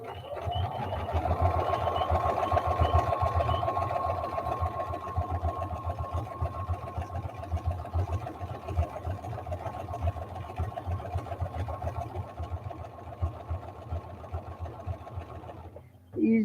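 A foot-pedal sewing machine runs steadily and close by for about fifteen seconds, its fast, even stitching hum and rattle continuing unbroken before stopping abruptly, with faint talk in the background.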